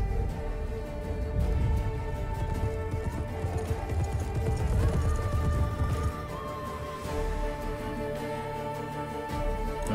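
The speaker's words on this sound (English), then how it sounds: "That's your horse, I think." Rhythmic hoofbeats of a galloping horse in The Witcher 3: Wild Hunt over a steady synthetic backdrop with tonal music, moderately loud and continuous throughout.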